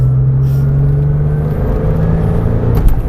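A Porsche 911 on the Marcoussis circuit picks up throttle again, its engine a steady loud rumbling drone with a strong low tone throughout, close and continuous without any talk over it.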